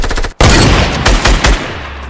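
Sniper rifle fire in a console video game: a loud, close run of sharp shots with a brief silent gap, followed by several distinct heavy reports spaced roughly a quarter-second apart, with no talking.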